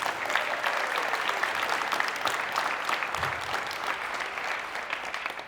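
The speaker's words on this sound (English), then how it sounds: "let's give yourselves a big round of applause" Event crowd applauding after a speech, a sustained wash of many hands clapping at moderate distance, steady and even for the whole stretch with no talking.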